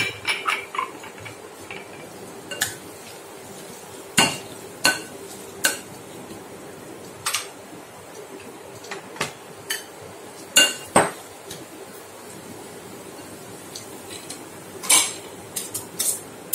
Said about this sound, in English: And here are green peas. I'm going to mash them also randomly, not very much, just a bit of it.